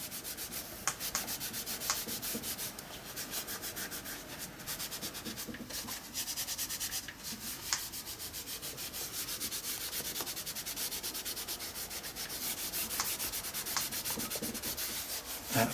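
Steady scratchy rubbing of a baby wipe over a mixed-media art journal page, running continuously for about fifteen seconds with small rhythmic scuffs, close and fairly quiet, with no talking.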